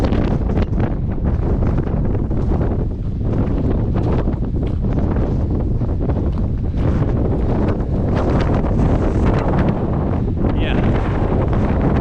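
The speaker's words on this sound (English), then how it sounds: "Yeah, it's windy as." Strong, relentless wind blasts the microphone on the Tongariro Alpine Crossing track in New Zealand, a loud broadband roar with crackling gusts that never lets up.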